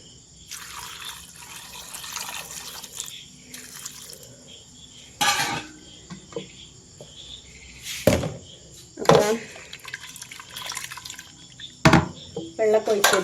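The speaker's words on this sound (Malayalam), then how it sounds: "ഇതിലേക്ക് അത് വേവാൻ ആവശ്യമായിട്ടുള്ള കുറച്ച് വെള്ളം കൊണ്ട് ഒഴിച്ചു കൊടുക്കാം" Water poured from a vessel into potato curry inside a cooker makes a few short splashing bursts at the close, over a quiet kitchen background with faint chirping.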